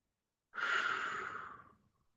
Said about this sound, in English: One more long breath.